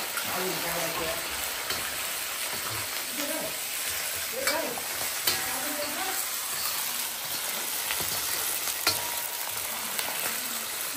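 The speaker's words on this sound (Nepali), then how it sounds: "तारा हिलटपमा आएर कान्छाको हातको पकाएको खानु लाग्यो लोकल कुखुराको सुप" Local chicken soup being cooked at Tara Hill Top in Nepal, with a steady close sizzle of frying and the scrape of stirring throughout, plus faint background voices.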